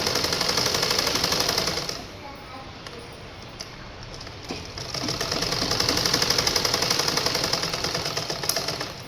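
A sewing machine stitches the side, armhole and shoulder seams of a gown, rattling in fast, steady bursts that pause briefly and then resume, close and clear.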